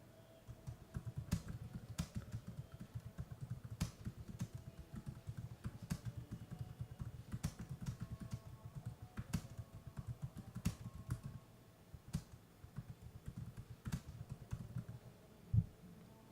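Fingers type steadily on a computer keyboard, a quiet, continuous patter of rapid keystrokes with a few sharper clicks and one louder thump near the end.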